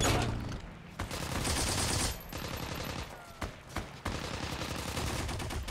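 Machine gun fire in the Heroes and Generals video game: rapid bursts of automatic shots that come in loud clusters, broken by a few short pauses, with no talk over them.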